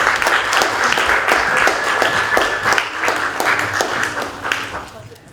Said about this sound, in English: Can we give all our presenters a round of applause?